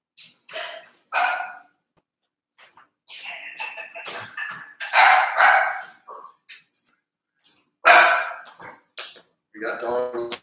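Dogs bark in scattered bursts indoors, sharp and fairly close, with quiet gaps between volleys and a yip or two near the end.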